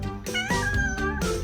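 A cat gives a drawn-out series of deep, tonal meows, close and fairly loud, with brief gaps between calls and no talking.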